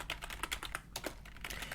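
Rapid, irregular keystrokes on a computer keyboard, entering short words into a Notion page, close and fairly soft, with a brief pause partway through and no talking.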